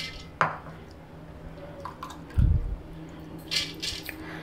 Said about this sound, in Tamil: இப்போ பச்சைப்பருப்பை மிக்சி ஜாரில் மாற்றிடலாம்.